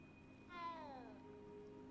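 A cat in a magic-themed video game gives a single short meow when petted, a faint harmonic cry rising and falling over steady low background ambience.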